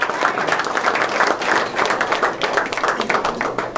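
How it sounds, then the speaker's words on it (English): At a town hall meeting a crowd applauds, steady mid-level clapping that fills the room, with some voices mixed in under the claps. "we're going to start getting a round of applause"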